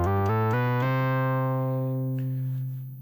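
Preset on the Xils Lab Xils 4 modular software synthesizer: a bright, buzzy tone with a quick run of stepped notes that settles into a sustained low held note, slowly fading, with no talking.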